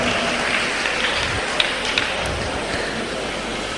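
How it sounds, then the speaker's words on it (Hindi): Steady, dense applause from an audience honoring women at a public event in Malda, a continuous wash of clapping held at an even level throughout with no break. "तो जोरदार तालियां इन औरतों के लिए, महिलाओं के लिए।"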